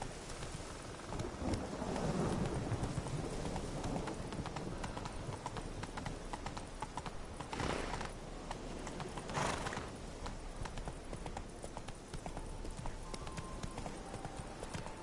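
Roach, a horse in The Witcher video game, gallops with steady clip-clopping hoofbeats amid a rumbling thunderstorm and rain, the hooves loud and continuous throughout.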